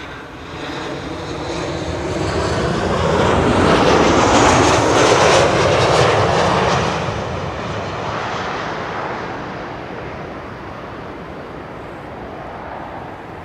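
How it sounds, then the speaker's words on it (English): A Transavia airliner arriving from Zakynthos and landing on the Kaagbaan runway at Schiphol: a loud, broad engine roar swells to a peak mid-pass and then slowly fades with a lingering rumble and wind. "This is Transavia flight 1730 arriving from Zakynthos in Greece"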